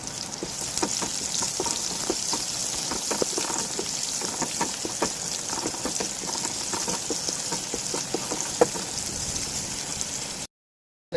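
Ginger, garlic and onion sauté in a hot pan, giving a steady, close crackling sizzle with dense popping. It runs alone and unbroken, then cuts off abruptly just before the end.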